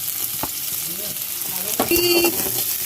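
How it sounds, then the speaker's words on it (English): Chopped onions and cumin seeds fry in a hot pan, giving a steady close hiss with a few sharp clicks and a short metallic scrape near the end. "Let it be fry till when the onions are golden brown."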